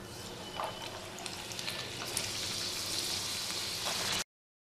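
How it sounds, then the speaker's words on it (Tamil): Diamond-cut maida biscuits deep-fry in hot oil with a dense, steady sizzle and crackle, close and continuous until it stops abruptly. "இனி நம்ம கட் பண்ணி வச்சுருக்கிற எல்லாத்தையுமே பொரிச்சு எடுத்துக்கலாம்."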